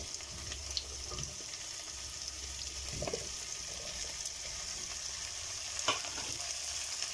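Carrots and potatoes fry in butter with onion and garlic for lentil soup, a steady, fairly quiet sizzle with a few soft stirring scrapes and no talking.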